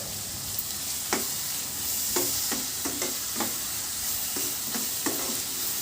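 Grated carrot halwa being stirred in ghee, a low sizzle broken by repeated scraping strokes of a spoon against the pan at an irregular rhythm, no voices.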